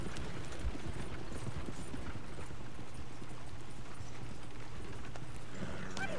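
Horses clip-clop steadily in a PS4 video game, a dense continuous patter of hooves under constant game ambience with no clear voices.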